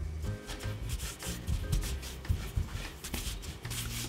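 Fresh pasta dough rolled up by hand on a board, giving steady soft rubbing and shuffling with low thumps, close and continuous, no talk.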